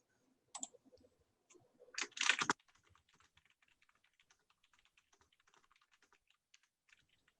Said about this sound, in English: I'm gonna type it for you.